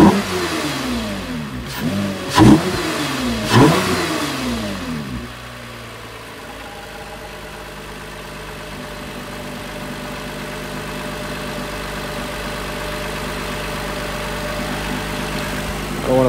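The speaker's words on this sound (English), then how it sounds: "I know you guys want to hear the intake, so I'm going to do a couple of revs." A 2020 Toyota Camry TRD engine blips sharply three times, then settles into a steady low idle that continues alone.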